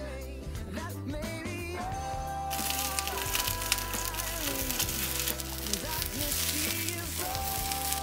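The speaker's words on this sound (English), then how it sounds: "While our sausages are frying" Sausages sizzle and crackle in a hot pan, a steady frying hiss with music playing in the background.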